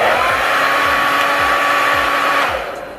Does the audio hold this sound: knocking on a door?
no